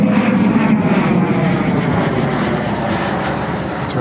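An EDF model jet, the Odyssey with a JETFAN-120 ducted fan, climbs in flight with a continuous loud whine and rushing roar that eases slightly toward the end.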